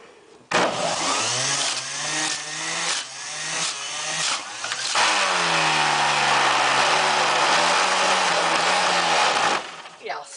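Electric juicer running with vegetables, a loud close motor whine whose pitch rises and wavers as produce is fed through the spinning blades, then settles into a steady high drone for several seconds before stopping.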